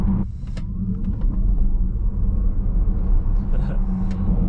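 A used 1000-horsepower Tesla Model S Plaid accelerates hard, heard from inside as a deep, steady road and tyre rumble with little engine tone, fairly loud and constant throughout.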